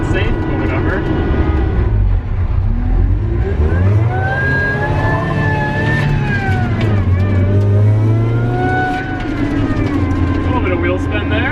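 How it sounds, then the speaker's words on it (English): A car revving hard with wheel spin, its engine note rising and falling in long sweeping tones and a squealing whine over a deep rumble, loud and close, with people talking over it. "Wheel spin there."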